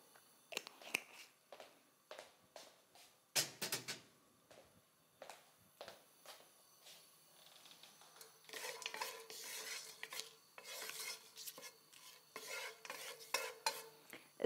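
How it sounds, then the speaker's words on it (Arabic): Whole spices and a cinnamon stick frying in hot oil in a pot, with utensil clinks and stirring scrapes at first, then a steady close sizzle broken by stirring. "بدي إياهم شوي يتقلوا ويعطوني الريحة الطيبة تبعيتهم"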